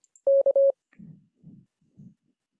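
The Morse code letter K is sent at 25 words per minute as a single clear tone in a long-short-long pattern, followed by a few faint, low murmurs.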